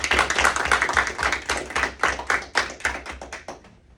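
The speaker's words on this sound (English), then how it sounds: "Clap it up for tonight." An audience claps at a middle school award ceremony, a dense, steady patter of many hands at close range that thins and fades slightly toward the end, with no talking over it.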